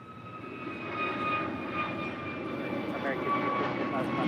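An airliner departing from runway 25 right at Los Angeles International Airport, a broad steady engine roar heard at a distance that swells gently and holds throughout, with faint radio or voice chatter in the background.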